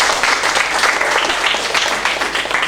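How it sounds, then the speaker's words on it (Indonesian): An audience at a school principals' gathering in Lamongan applauds Pak Munir, a thick, even wash of many hands clapping, loud and sustained throughout without any voice on top. "Tepuk tangan untuk Pak Munir."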